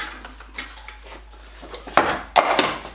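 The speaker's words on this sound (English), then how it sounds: "So in here we've got pots, pans." Pots and pans from a small camping cook set being handled, with scattered light metallic clinks and knocks building to two louder clanks near the end, close by and without talk.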